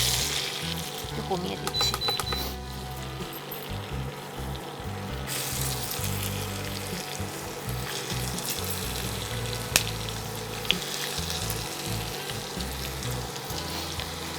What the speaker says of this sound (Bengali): মধ্যে রসুন কুচি দেবো।